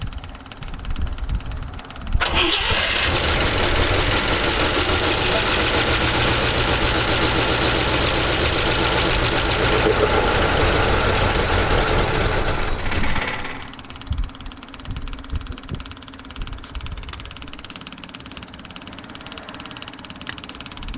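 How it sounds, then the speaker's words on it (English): An International engine idles with its fuel pump turned well down, a steady mid-low rumble that starts abruptly and runs loud and even for about eleven seconds before cutting back to a quieter background hum. "see if the idle is still nice and smooth"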